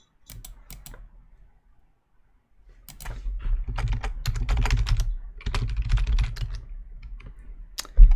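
Keys clatter in quick, uneven bursts as someone types on an unlit computer keyboard nearby, with a brief pause early on and a louder stretch later.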